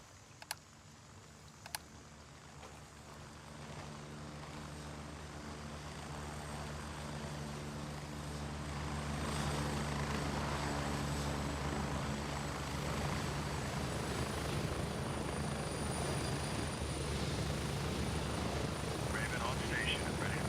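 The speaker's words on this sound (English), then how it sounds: "once the chopper comes down here, you and your boys can board the chopper" A video-game helicopter arrives for a pickup, its rotor and engine drone building steadily and growing louder, beating rhythmically with a couple of sharp clicks near the start and voices talking over it.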